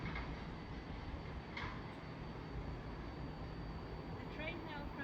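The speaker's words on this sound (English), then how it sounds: "Soon to pass will be a Thameslink service going from Bedford to Brighton." A Thameslink service from Bedford to Brighton passes through South Croydon station on the Brighton Main Line, producing a steady, loud broadband rumble and rush that holds throughout without a break.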